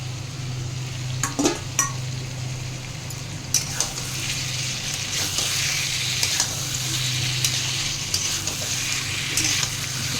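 Shol fish fry in oil in a pan with a steady, close sizzle. A utensil scrapes and taps against the pan now and then, and no one talks.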